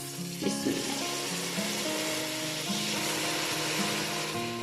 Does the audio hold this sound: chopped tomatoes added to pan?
yes